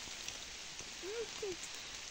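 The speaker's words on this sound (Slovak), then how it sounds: "Ja sme v lese a prší." Steady rain falls in a forest, a soft continuous patter of drops on leaves and ground, with two faint short chirps partway through.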